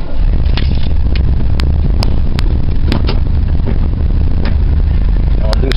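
An Oldsmobile Vista Cruiser station wagon idles and creeps while turning around in a tight driveway, a loud low engine rumble with scattered clicks and clatter throughout.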